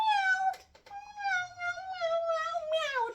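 A voice imitates a cat with a long, loud, drawn-out meow that slides downward, broken by a brief pause partway through.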